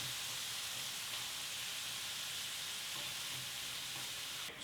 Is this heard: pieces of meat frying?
yes